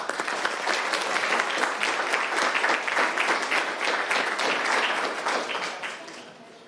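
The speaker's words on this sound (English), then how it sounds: "let's give one more round of applause." Audience at a city council meeting breaks into sustained applause, a loud, dense clatter of many hands that holds steady for several seconds before tapering off near the end.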